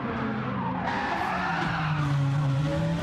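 Race car in the Gran Turismo video game spinning out and skidding during an esports heat, then hit by another car. A loud, continuous tire skid sits over steady engine noise, with no talk.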